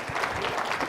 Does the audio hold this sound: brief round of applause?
yes